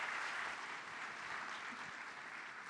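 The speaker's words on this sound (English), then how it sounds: "Une bonne main d'applaudissement pour la première équipe" Sustained applause from an audience at a 2019 business event, steady and even throughout, a dense wash of clapping filling the room without pauses.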